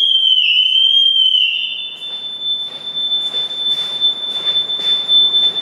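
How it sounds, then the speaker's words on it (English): A Triumph motorcycle's alarm sounds a loud, steady high-pitched electronic tone continuously for a couple of seconds, then drops away into rough background noise with faint repeated chirps. "Don't mind the alarm system on the Triumph going off in the background"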